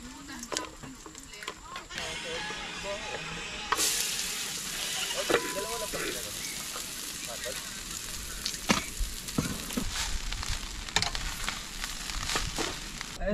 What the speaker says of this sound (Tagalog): luluto muna tayong almusal para sa kanila